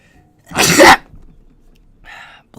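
A single sharp, loud sneeze bursts out close by, followed by a brief faint voice and quiet room sound.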